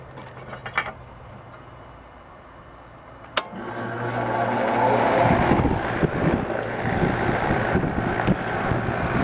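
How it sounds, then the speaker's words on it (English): A 1990 Lennox air conditioner switches on with a sharp click, and its fan then builds into a steady, close, broad whooshing roar that holds to the end. "Hopefully the wind from the fan isn't causing too much noise."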